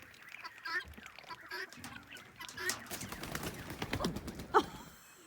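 A chicken flaps its wings as it flies up over a person's shoulder during a cold winter-morning bird feeding, a close burst of fluttering amid soft clucks and other fowl calls.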